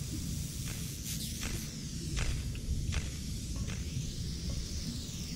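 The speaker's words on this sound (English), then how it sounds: "I can only hear footsteps" Footsteps in a horror video game set aboard a ship, a few soft scuffing steps buried under a constant loud hiss and rumbling ambience, indistinct and hard to place.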